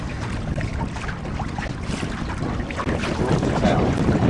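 Steady wind noise buffets the microphone aboard a sailboat on Hickling Broad, with water sloshing against the hull throughout and no talk.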